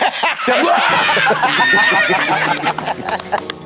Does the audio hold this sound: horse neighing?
yes